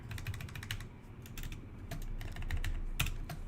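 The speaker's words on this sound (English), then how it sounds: "Let me type it in differently here." Typing on a computer keyboard to enter a code, with steady runs of close, crisp key clicks and a few louder taps, alone with no talking.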